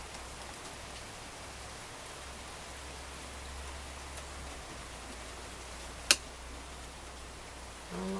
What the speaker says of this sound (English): it's rain hitting the metal roof.